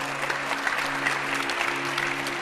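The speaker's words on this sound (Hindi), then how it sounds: "एक बार जोरदार तालियां बजा दो भाई, इनके लिए" Audience applause at a televised yoga and health session, steady dense clapping sustained throughout with a faint tonal hum beneath.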